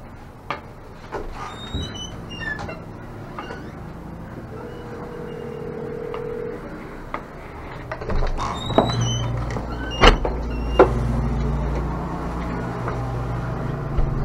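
A door being closed and secured during a tense encounter involving a police chief. Scattered knocks and metallic clicks lead to a cluster of heavy thunks and clunks over a low background hum, with no voices.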